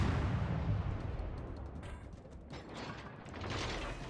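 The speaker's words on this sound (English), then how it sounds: "Fuso takes a blind shot at us" Heavy main-battery salvo from the battleship Fuso in World of Warships Legends, deep booming artillery rumble with a low thud at the start and rolling echo, loud and without speech.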